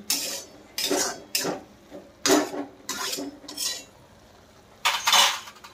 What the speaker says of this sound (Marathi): तर आता आपण हिला अशी स्मॅश करून घेऊ.